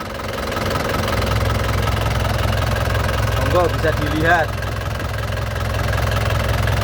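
An Isuzu Panther 2.5 turbo diesel engine from 2013 runs at idle with its bay open, a steady low diesel clatter and rumble heard close up under a man's speech.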